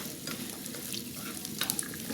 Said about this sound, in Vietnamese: Rồi các bạn xào cho cái phần đùi gà này nè